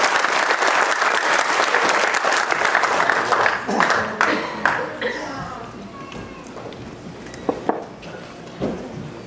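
A church congregation bursts into dense, loud applause that fades after a few seconds into scattered claps, with voices talking beneath the tail end.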